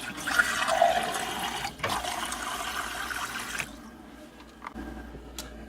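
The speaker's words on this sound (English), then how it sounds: "here we're running the second glass of water out of the filter." Water from a refrigerator water filter pours into a glass, with air pockets sputtering from the hose. It gives a continuous splashing, trickling flow that fades to quieter drips near the end.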